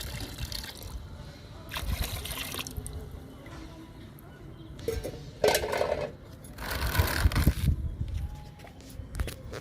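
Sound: liquid being poured into container

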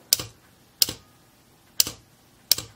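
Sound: relay clicking, damped with rubber washers

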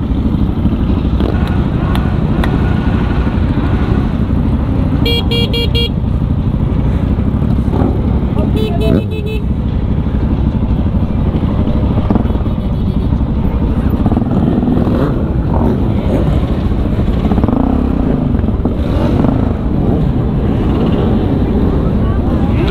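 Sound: many motorcycles riding together

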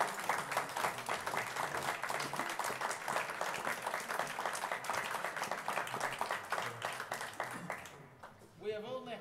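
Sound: applause for a brass band

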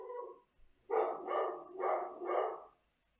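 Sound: dog barking

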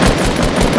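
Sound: gunshots in the video game Fortnite

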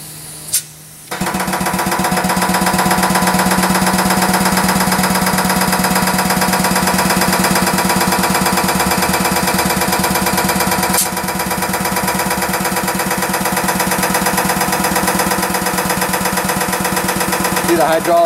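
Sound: JWI air/hydraulic filter press operating, pump building hydraulic pressure

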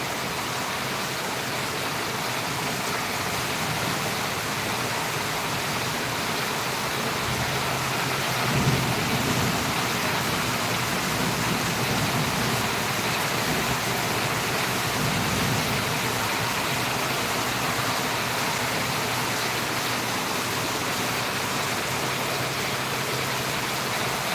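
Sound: heavy rain with thunder

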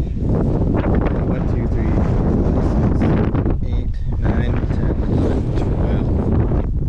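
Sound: strong wind blowing across a farm field

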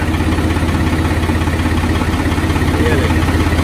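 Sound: tractor engine idling

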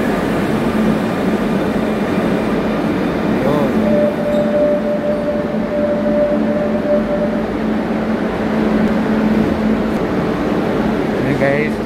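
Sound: Barcelona metro train arriving

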